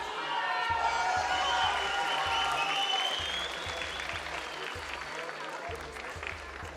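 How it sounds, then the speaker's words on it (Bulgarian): A crowd at a kickboxing championship fight applauds the winner with sustained, dense clapping that fades gradually, while an announcer's amplified voice talks over it. "Аплодисменти още веднъж."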